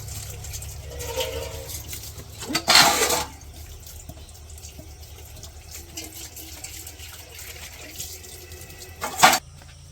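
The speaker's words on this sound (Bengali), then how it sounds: "তোমার থালবাটি ধোয়া শেষ।" Dishes being washed under running water in a village kitchen, a low trickle with two loud bursts of splashing water and soft clinks of utensils in between, close by, with no speech.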